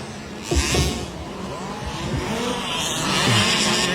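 Race car engines at an FMCT 2018 race, class 65, roar and rev, passing with rising and falling pitch and a tire squeal, heard from moderate distance without speech.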